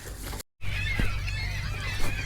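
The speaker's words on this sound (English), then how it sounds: "There's the seagulls. They're really loud this morning." Raucous seagull squawks and cries overlap in a continuous noisy morning chorus outdoors at an RV site, with a brief dropout near the start.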